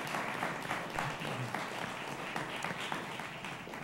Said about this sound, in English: let's have a big round of applause for all of our candidates